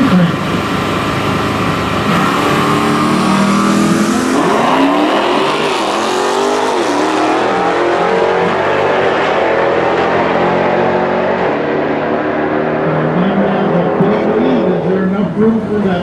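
A big Dodge Challenger muscle car roars down a drag strip in a loud, sustained engine blast that shifts in pitch as it passes, with a commentator speaking over the racing.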